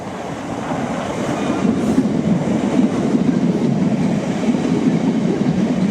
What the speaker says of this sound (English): Looks like a Class 73 Network Rail train.